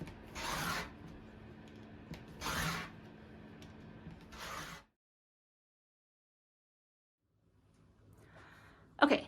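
A cutter slices fabric into 1-inch strips in three separate rasping strokes, close and moderately loud, each about a second long. A quiet pause follows, then a brief faint rustle near the end.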